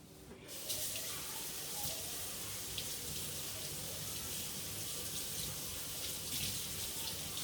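Kitchen tap water runs steadily into a sink while fresh cilantro is rinsed, a continuous close splashing hiss that starts abruptly and holds even throughout, no talking.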